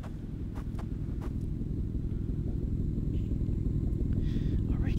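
Car engine rumbling in the survival game Plains of Pain, a steady low drone that gradually grows louder as the vehicle approaches, with faint clicks on top.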